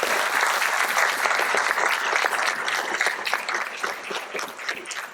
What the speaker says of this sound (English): we all ought to offer them a big round of applause